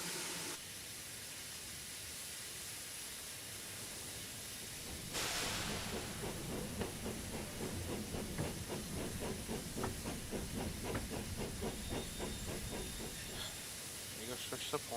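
A steam locomotive in the Wonder of Sodor video game reverses out of a siding, with a loud sustained steam hiss followed by rhythmic chuffing exhaust beats that repeat steadily under faint game ambience.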